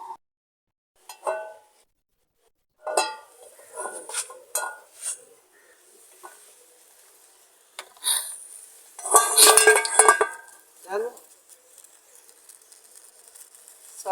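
A saucepan is handled on a stove, with scattered metallic clinks, knocks and scrapes of pan and utensils coming in short irregular bursts with quiet gaps between them, close by and without speech.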